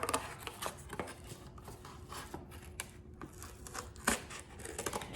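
Scissors cutting faux pumpkin pie slices from a craft material, producing quiet, irregular snips and crinkly tearing sounds with a few sharper cuts spread across the stretch.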